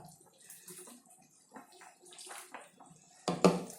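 Chickpea cooking water poured into a pan of chole masala, a short splashing burst near the end after quieter kitchen handling sounds.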